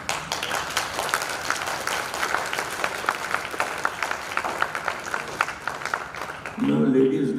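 Women in the audience of a spiritual session clap along in a fairly regular rhythm, many hands together at moderate loudness, before a voice breaks in at the very end.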